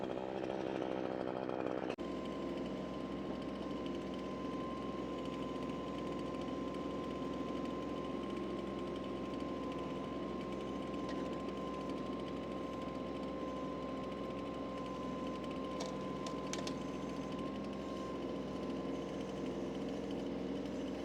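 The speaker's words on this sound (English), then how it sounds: "I'm going to turn the tractor RPMs up and see if we do a better job of getting these logs" A tractor backhoe engine drones steadily at high revs while pulling logs for firewood, loud and close, with a sustained mechanical whine and a sharp change in pitch near the start.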